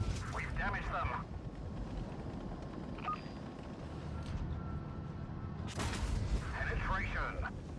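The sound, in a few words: tank cannon fire in the video game World of Tanks Blitz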